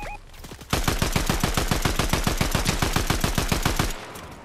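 Automatic gunfire in the Fortnite video game: a long, rapid burst of evenly spaced shots, loud and close, that goes on for about three seconds after a few softer shots and a short beep.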